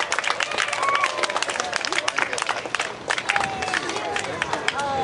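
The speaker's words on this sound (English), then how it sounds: "Bigger cheer." A large outdoor crowd at a bear demonstration cheers and claps loudly and continuously, a dense wash of applause with scattered shouts and whistles.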